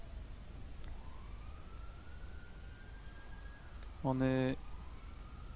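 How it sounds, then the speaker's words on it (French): Police sirens in a GTA roleplay video game: a faint rising siren wail drifts under ongoing talk, then a short, loud, buzzy horn-like blast cuts in near the end. "ils mettent toutes les sirènes"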